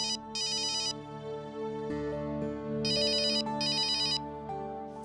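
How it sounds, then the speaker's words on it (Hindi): A phone ringtone plays in a Hindi TV serial home scene, two bursts of repeated electronic trilling chirps over a soft melodic music bed, loud and close. "देवयानी का फोन है।"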